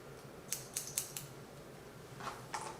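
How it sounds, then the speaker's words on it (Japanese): Close, crisp snips of scissors cutting hair in a side-part high-layer basic cut: a quick run of four cuts, a pause, then two more, clean and steady with no talking. "ハサミはスクエアもしくはクローズに使ってください。"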